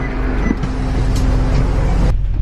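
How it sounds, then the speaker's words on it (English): Interior rumble of a bus on a day trip near Brighton, with a low engine drone, road noise and a few rattles and clunks, loud and steady throughout with no talking. "So back on the bus"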